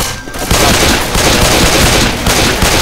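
Gunfire from a shotgun in the zombie shooter Left 4 Dead 2 rings out loud and close: a dense, continuous barrage of blasts with no talking over it.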